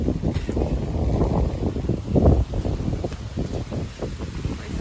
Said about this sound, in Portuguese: que vento bom